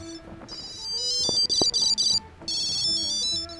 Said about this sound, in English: Check it out, it's playing a noise.